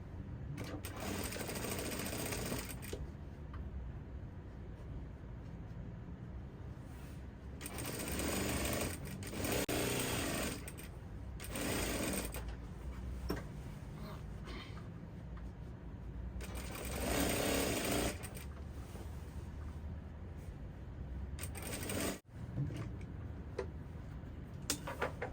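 A sewing machine stitching the seam of an off-shoulder maxi flare dress, with a steady rapid mechanical whir that runs in long close bursts, pausing briefly between runs and ending with a sharp click.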